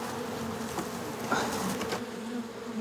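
A swarm of honeybees hums in a continuous drone on a city building rooftop in Seoul, a steady buzz with one brief closer pass of a bee, no talking.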